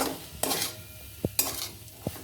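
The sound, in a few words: stirring carrots and beans in noodle soup pan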